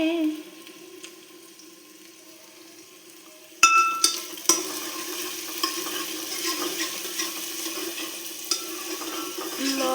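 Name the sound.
frying and stirring potatoes and cauliflower for aloo gobi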